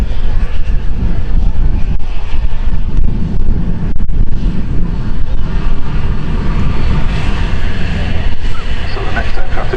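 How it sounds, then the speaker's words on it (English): A TUI Boeing 737 MAX 8 lines up on the runway at Manchester Airport, its jet engines making a loud, steady rumbling roar that runs throughout, with heavy wind buffeting the microphone. "It's a Boeing 737 MAX 8 belonging to TUI on its way to Fuerteventura"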